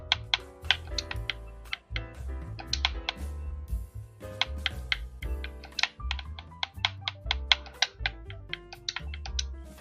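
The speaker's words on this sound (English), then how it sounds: "me typing in" A Wi-Fi password is being typed on a keyboard, with rapid, uneven clicking keystrokes that sound close over a steady musical background.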